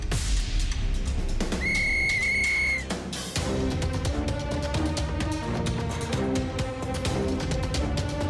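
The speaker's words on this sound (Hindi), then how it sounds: "सीटी बजाते ही रेस शुरू हो जाएगी।" A whistle blown to start a cartoon race, a steady sustained tone of about a second amid busy, loud background music and effects.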